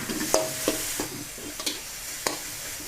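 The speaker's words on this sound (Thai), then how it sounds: "ใส่ในส่วนของหมูสับค่ะลงไปนะคะ ซีอิ๊วขาวค่ะลงไปสักเล็กน้อย ผัดต่อค่ะ" Minced pork seasoned with light soy sauce stir-fries in a pan for a basil noodle dish, a soft frying hiss broken by several close spatula scrapes and taps at an uneven pace.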